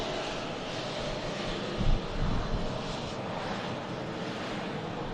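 A charter flight aircraft at Manchester Airport in strong winds produces a steady distant jet engine roar with a broad rushing wash, plus a brief thump of wind buffeting partway through.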